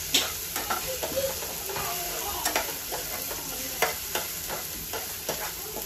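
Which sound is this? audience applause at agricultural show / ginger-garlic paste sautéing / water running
ginger-garlic paste sautéing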